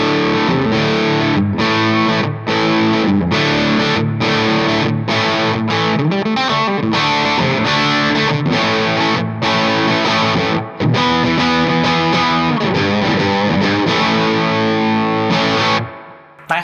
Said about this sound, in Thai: ขออนุญาตลองเป็นในฝั่งของเสียงแตกแล้วกัน